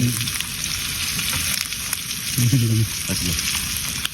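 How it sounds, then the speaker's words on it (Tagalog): Walo-walo frying in hot oil gives a loud continuous sizzle and crackle, with a voice murmuring briefly underneath. "pakaprito muna natin itong ating walo-walo"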